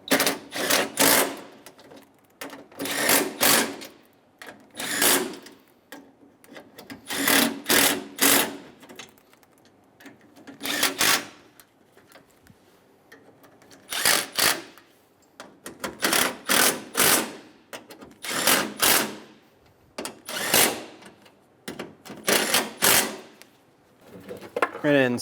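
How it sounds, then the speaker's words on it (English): Bolts on the radiator of a 2003-2008 Honda Pilot are run down with a power tool in repeated short, close whirring bursts, separated by brief pauses throughout. "Snug down the bolts."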